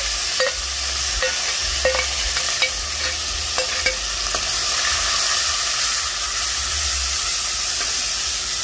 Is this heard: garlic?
yes